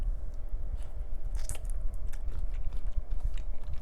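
Close, continuous biting and chewing of shrimp from a shrimp cocktail, wet crunchy mouth sounds with no talking throughout.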